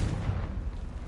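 A Confringo blasting spell explodes in Hogwarts Legacy, a dense, rumbling boom that fills the whole moment with heavy low-end roar.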